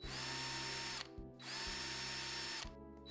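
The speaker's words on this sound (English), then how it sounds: "Start by marking out and drilling the holes in your chosen location for the pump." Power drill boring mounting holes for a Grundfos SCALA2 pump, two close, loud bursts of whining drilling with a short pause between.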